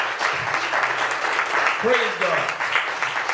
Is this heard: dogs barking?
no